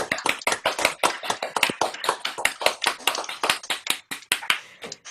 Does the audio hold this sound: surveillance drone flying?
no